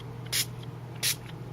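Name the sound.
spraying paper in a box for cardmaking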